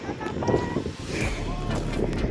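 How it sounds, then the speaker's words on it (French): Strong wind buffets the microphone in a steady roar by the sea at Le Bic, with a voice speaking faintly underneath. "je vais parler fort parce qu'il y a beaucoup de vent ici"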